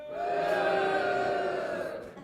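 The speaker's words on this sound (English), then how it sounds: "everybody in the room is going to boo as loud as they can, just like this." A room full of people at a magic show booing together in one loud, sustained, droning boo that swells and then fades over about two seconds.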